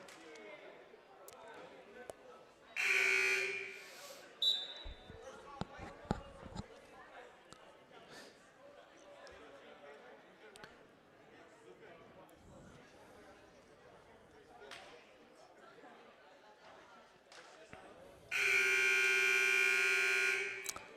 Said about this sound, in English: And that is the 60-second timeout buzzer ringing there.